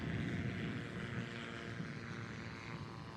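A Zlin light airplane takes off during STOL practice in the Rocky Mountains, its propeller engine droning loud and steady throughout.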